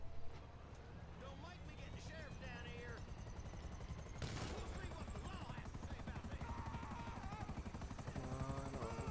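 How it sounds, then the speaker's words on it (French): Rotor thrum of a helicopter in a PS4 video game continues throughout with a steady pulsing beat, while someone talks over it and brief game sound effects pop in. "Voilà, un beau petit hélicoptère."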